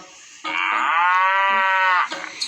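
A cow in the video game PK XD lets out one long, loud, close moo that lasts over a second, with short soft sounds before and after it.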